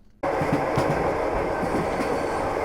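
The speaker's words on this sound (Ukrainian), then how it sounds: "Коли стомлений потяг нарешті підсунув до станції, повітря заповнила симфонія суто вокзальних звуків: вереск свистка, скрипіння гальм" A train rolls into a station, its sound cutting in abruptly and then holding as a loud, continuous rumble with rhythmic clickety-clack from the wheels on the rails, heard close and alone.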